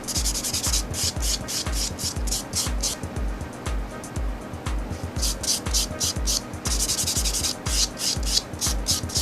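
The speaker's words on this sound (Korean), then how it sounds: "이제 스폰지 버퍼를 이용해 갖고 여기 가볍게 샌딩을 해줄 건데" Fingernails are lightly sanded with the 180-grit side of a sponge buffer in a close, rhythmic rasping scrub of quick back-and-forth strokes. It pauses briefly midway, and faint voices are heard underneath.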